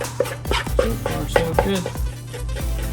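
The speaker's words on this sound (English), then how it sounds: "Give it a good mix." Homemade fish food ingredients being mixed in a bowl, a series of soft, irregular thumps and scraping clinks repeating at a steady stirring pace, close by and moderately quiet.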